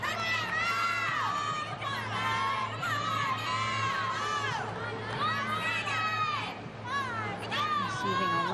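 Teammates cheer and shout for a gymnast during an NCAA women's gymnastics meet in an arena, high excited whoops and voices rising and falling over a constant crowd roar, fairly close and loud.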